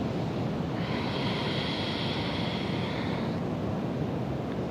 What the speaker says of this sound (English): I don't know if you can hear the waves at the beach at the moment, but it's kind of like that sound of it breaking on the shore.